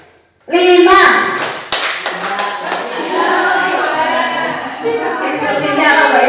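Children in a classroom clap game slap out quick bursts of hand claps and taps following a teacher's counted instructions, sharp clusters of clapping mixed with chatter and shuffling.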